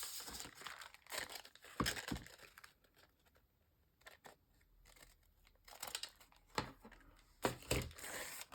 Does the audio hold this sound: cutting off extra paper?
yes